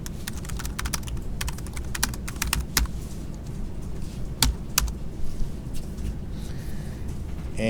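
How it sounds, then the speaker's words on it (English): Steady typing on a computer keyboard while writing a couple of sentences for a self-hosted WordPress post, with rapid clustered keystrokes over a constant low background hum and no talking. "once you're done typing 2 sentences"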